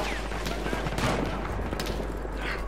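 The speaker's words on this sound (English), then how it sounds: "Who's shooting?" Gunfire fills a Battlefield 1 deathmatch on the Amiens map, a dense, continuous stream of distant and mid-range shots and bursts with no pause, running under a busy battle din and a faint voice.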